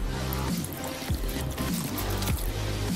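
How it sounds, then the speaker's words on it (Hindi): Water trickling and pouring into a kitchen grinder jar holding mango pieces while making aamras, a soft, close, splashy dribble with a few gurgling surges, fairly quiet throughout. "इसमें हम थोड़ा सा पानी डाल देंगे"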